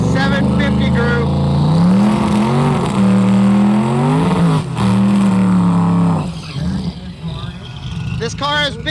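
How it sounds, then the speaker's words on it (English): A turbocharged drag racing car from the 750 group rumbles back around the track, its engine tone sweeping up and down steadily and loudly, with an announcer talking over it throughout. "We have our first car coming back around from the 750 group."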